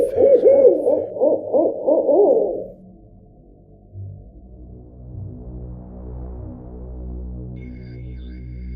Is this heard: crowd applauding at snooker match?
no